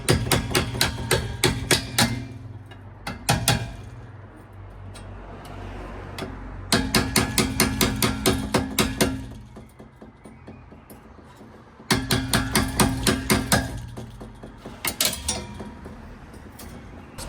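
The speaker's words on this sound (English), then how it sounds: "get this screwdriver, jam it in and try and ply this off" A screwdriver wedged and worked against bars to pry them off a boat, heard as three bursts of rapid, sharp metallic clicks and knocks separated by duller scraping, close and fairly loud with no voice.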